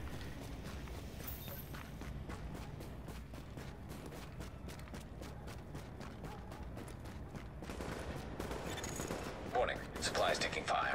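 Rapid bursts of gunfire in The Division game crackle steadily throughout, sharp repeated shots layered over a dense background of battle noise that swells louder near the end, with a voice speaking over it.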